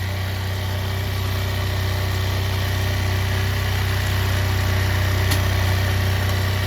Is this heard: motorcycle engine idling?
yes